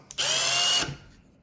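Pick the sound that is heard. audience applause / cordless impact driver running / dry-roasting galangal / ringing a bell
cordless impact driver running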